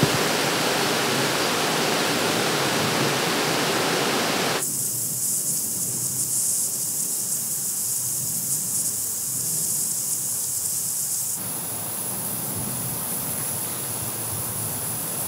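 Steady broadband hiss of a lawn sprinkler head throwing water across grass toward a porch and fence, continuous and fairly close, shifting in tone as the spray sweeps, with no talking.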